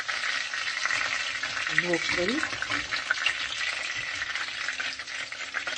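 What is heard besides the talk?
frying rolled minced-meat dough pieces in oil in pan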